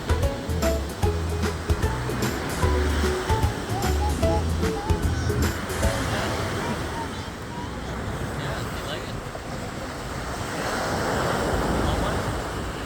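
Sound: sea waves crashing on beach

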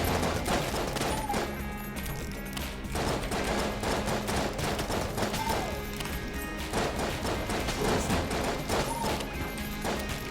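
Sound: shotgun gunfire in a video game

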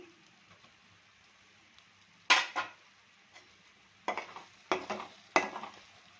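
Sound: stirring masala into chicken pickle

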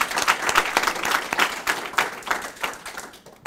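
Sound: audience round of applause

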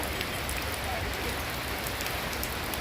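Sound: rain falling during heavy flooding

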